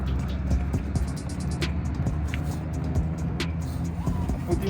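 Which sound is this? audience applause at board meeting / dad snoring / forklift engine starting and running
forklift engine starting and running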